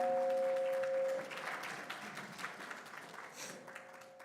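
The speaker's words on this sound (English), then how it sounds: "let's just give them a round of applause" An audience at a state senate summit on higher education breaks into applause, a dense, steady wash of clapping in a room, fading slightly as it goes on.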